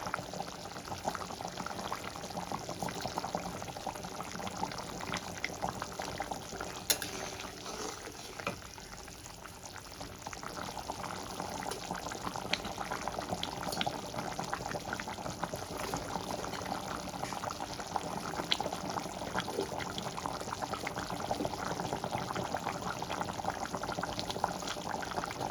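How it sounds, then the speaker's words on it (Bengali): Curry gravy with fried peas boiling in a pot, a quiet steady bubbling and simmering hiss that goes on alone. "ঝোলটা আমার ফুটে গেছে টকবক করে।"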